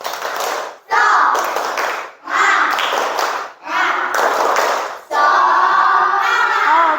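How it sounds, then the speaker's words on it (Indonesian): Students in a classroom perform a rhythmic spirit clap, several sharp patterned bursts of hand claps separated by brief pauses, with voices chanting along. "Tepuk semangat."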